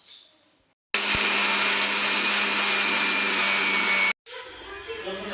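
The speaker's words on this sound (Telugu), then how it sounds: "ఇది మనం మెత్తగా మిక్సీ పట్టేసుకుందాం" A mixer grinder roars loudly and steadily for about three seconds, starting and stopping abruptly, with quieter kitchen sounds before and after.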